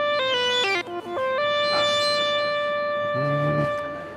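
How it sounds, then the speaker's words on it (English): Hard sync synthesizer tone from an OP-XY, a bright buzzy harmonic-rich line whose pitch steps through several notes and then holds a sustained tone, with a lower warbling note rising near the end; steady, loud, and without talk. "Hard sync can sound like this."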